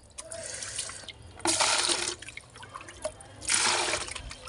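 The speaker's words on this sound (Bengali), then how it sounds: "জলটা তুলে রাখি একটু" Water is scooped out of a cooking pot, giving two clear splashing, pouring bursts with quieter drips and trickles between them, close and fairly soft.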